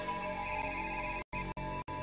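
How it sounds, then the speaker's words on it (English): A car phone rings with a steady electronic trill heard from nearby, cut by a few brief gaps. "Is that that agent's car phone?"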